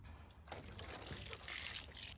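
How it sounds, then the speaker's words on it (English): Water pours steadily onto the soil of a newly planted pea in a pot, a soft continuous trickle and splash that swells after a quiet start and runs close by without speech. "now we're gonna make sure we water it really good."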